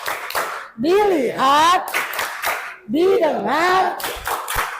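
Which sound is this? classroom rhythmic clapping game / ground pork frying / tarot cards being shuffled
classroom rhythmic clapping game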